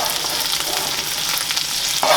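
Chorizo, onions and squash frying in a hot pan for a quiche, a steady close crackling sizzle with a slight rise in intensity near the end.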